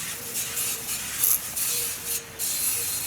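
A noisy sprayer hisses steadily while coating the inside of a culvert, a continuous broad spray with slight surges and a faint hum beneath, with no talking.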